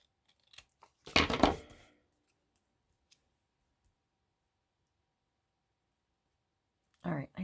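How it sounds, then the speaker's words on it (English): A paper cutter trims playing card ephemera in a short crisp slicing burst, then quiet, with another brief cutting sound at the end; close and fairly soft. "I like to use my cutter over there"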